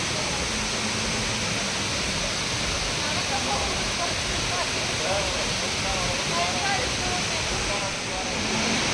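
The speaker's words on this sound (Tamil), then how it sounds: "excellent water falls" Bomburu Ella waterfall in Sri Lanka gives a steady, loud broadband roar of rushing water throughout, with no pauses, while a voice talks faintly beneath it.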